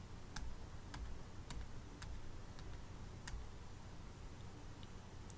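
Calculator keys pressed one at a time while entering matrix values, faint isolated clicks at an uneven pace, about a dozen over a few seconds, in a quiet room.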